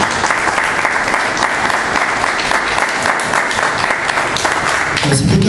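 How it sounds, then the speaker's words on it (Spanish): Loud, sustained applause from a church congregation welcoming the Holy Spirit, steady clapping filling the room for several seconds before easing slightly at the end. "Démosles un fuerte aplauso de bienvenida."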